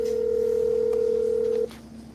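A telephone dial tone while calling a number back, a steady loud pure tone that holds then cuts off abruptly, leaving a quieter background.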